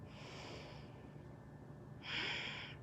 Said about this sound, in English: let me stop sniffing my blankie